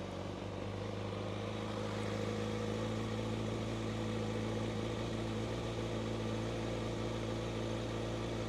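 A Kawasaki ZX-6R motorcycle with 19,950 km on it idles steadily, a low, even engine hum holding at constant level with no revving and no voices.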